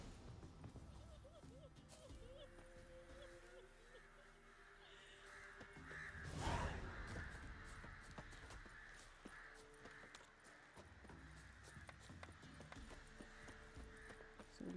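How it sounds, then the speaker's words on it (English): Crows caw repeatedly in The Witcher 3: Wild Hunt, faint and spread out over a steady low wash of game ambience, with one swelling louder moment partway through. "There's a lot of crows I'm hearing."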